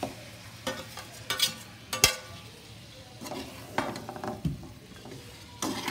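Cooked pepper chicken being stirred in a frying pan, with scattered scraping strokes and sharp utensil clacks over a low, steady sizzle, fairly close and moderately quiet.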